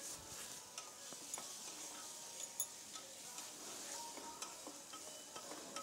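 Ground masala paste stirred into cooking gravy in a pan, giving a faint, steady sizzle with soft scraping and occasional light clinks throughout.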